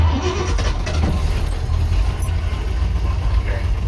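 A car engine idles steadily after being shifted into neutral, a continuous low rumble held at a raised idle, close by and fairly loud, with faint incidental rattles over it.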